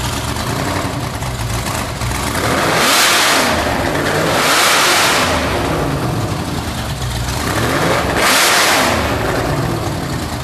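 Car engine revving hard as it is fired up, a loud continuous roar that surges in three sharp blips over a rough idle, close and alone without talk.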